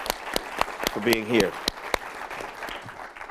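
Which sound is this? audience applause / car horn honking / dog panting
audience applause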